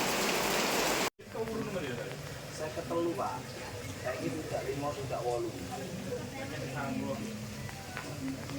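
Steady rain patters on a surface in Bali, a dense wash of drops that cuts out briefly near the start, with voices chattering faintly underneath.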